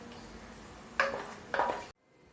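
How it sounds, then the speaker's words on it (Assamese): A spoon stirs mutton curry in a pan with two short scraping strokes about half a second apart over a low kitchen hum, then everything cuts to near silence. "এতিয়া অলপ ভালদৰে লৰাম"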